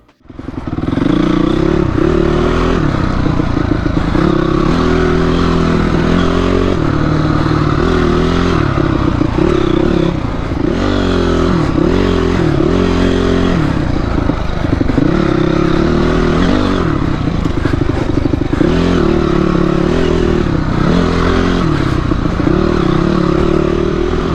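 A dirt bike engine roars loud and close on a single-track trail at a hare scramble, its revs rising and falling continuously with throttle changes, accompanied by rattling and clattering from the rough ground.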